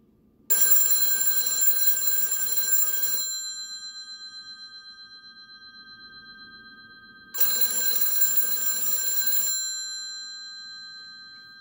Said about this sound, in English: So let's go ahead and show you that it's ringing. The bells sound a bit like a Model 500.